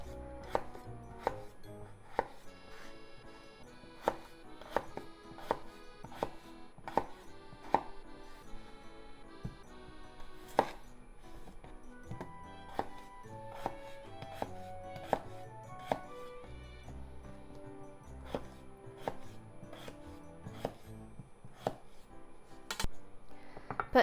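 Knife chopping washed, skin-on potatoes on a cutting board, first halving them and then slicing, with steady sharp knocks repeating close by and no talk.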